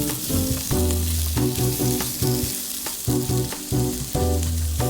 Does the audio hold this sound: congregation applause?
no